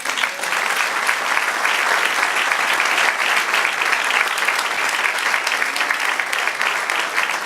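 A church congregation applauding the Lord during a Spanish-language evening service: loud, continuous clapping from many hands, dense and even, close and sustained for several seconds without letup.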